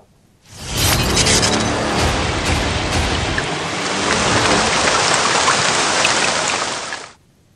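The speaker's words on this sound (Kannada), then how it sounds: "ಕೊಡಗು, ಉಡುಪಿ, ಶಿವಮೊಗ್ಗದ ಹಲವು ಕಡೆ ಧಾರಾಕಾರ ಮಳೆಯಾಗ್ತಾ ಇದೆ." A loud, heavy downpour in Karnataka's Kodagu, Udupi and Shivamogga region rushes in abruptly, drumming hard and evenly on surfaces, then cuts off sharply after several seconds.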